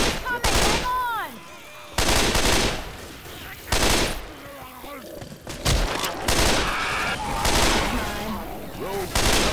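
Rapid bursts of automatic gunfire and shotgun blasts from Left 4 Dead 2 play close and loud in several volleys, with zombie growls and game voices mixed in between.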